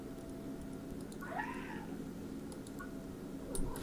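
A pet cat gives one soft, faint meow with a rising-falling pitch, followed by a brief quieter chirp, against a low hum in an indoor room.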